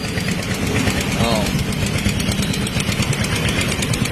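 A Rusi Turbo motorcycle engine runs steadily and close by, a continuous rough drone with dense low rumble throughout.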